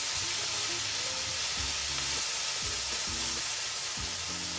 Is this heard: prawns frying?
yes